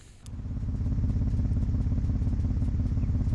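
A human voice imitating a Toyota Supra engine idling: a steady, rumbling idle with a low pulsing throb, continuous and fairly loud after a brief click at the start.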